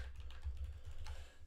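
Keys on a computer keyboard tapped in a quick, uneven patter, fairly faint, over a steady low rumble with no talking.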